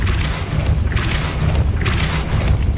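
Depulso force spell cast in Hogwarts Legacy, heard as a series of loud booming bursts that recur about every second, close and dense with little talk.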